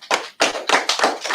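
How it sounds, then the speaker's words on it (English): A congregation at a Sabbath service claps together in a few quick, loud, rhythmic bursts close by, with no voices over the clapping. "Clap that up."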